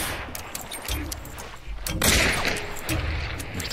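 Gunfire from the online shooter Hunt: Showdown: several sharp shots and a heavy rolling blast crack out in quick succession over an ambient game soundscape, with no talking.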